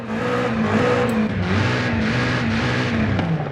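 A BMW M8 Competition engine in the video game Forza Horizon 5 roars steadily at high revs with a stock exhaust, loud and close, with a constant droning pitch that dips and rises slightly, no voices.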